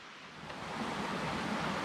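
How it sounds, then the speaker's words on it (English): Steady rushing creek water flows beside a campsite in the Great Smoky Mountains, a continuous broadband wash holding even from start to finish with no voices over it. "this is the creek on the other side of our campsite"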